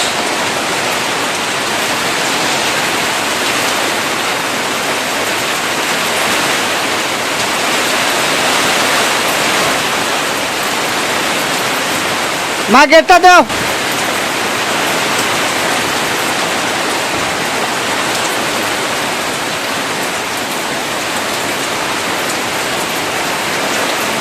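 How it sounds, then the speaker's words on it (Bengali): Heavy rain driven by wind, a loud, steady downpour hissing evenly throughout, with a brief voice speaking midway. "যেমন বৃষ্টি এমন বাতাস"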